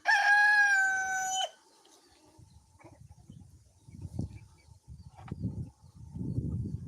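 A rooster crows once, loud and close, a long drawn-out call in the opening second and a half, followed by quieter clucks and rustling from the chickens.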